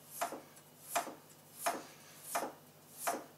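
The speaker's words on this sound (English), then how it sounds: "you take your knife, and all you're going to do is do thin strips" A sharp knife slices walleye fish into thin strips on a board, five evenly spaced crisp cuts about every seven tenths of a second, close and quiet with no talk.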